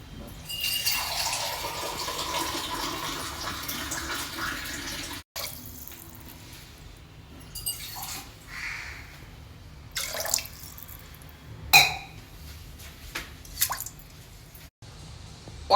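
Water streams into washed rice for temple-style pulihora, a steady pouring splash that later breaks into scattered drips and small splashes, with no talking.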